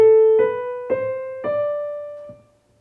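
Piano notes played smoothly and legato in a short rising line from G up to D, four connected tones then a soft final touch, clear and close with the sound decaying away alone.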